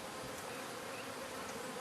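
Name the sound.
honey bees buzzing around a new hive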